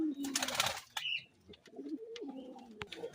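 A pair of red Chila pigeons at a pigeon farm gives low, wavering coos that rise and fall across several seconds, preceded by a brief loud rustling burst.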